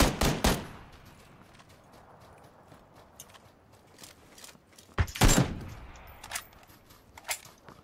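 Gunfire in the PUBG video game, a sharp burst of shots at the start and a tighter cluster around the middle, with scattered single cracks between and after, loud and close over a quiet background.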